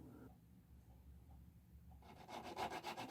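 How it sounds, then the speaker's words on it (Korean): A saw and file work a freshly cast silver pendant, cutting away the sprue. Quiet handling comes first, then a rhythmic back-and-forth rasping of about six close strokes. "물줄기를 자르고 구석구석 다듬습니다."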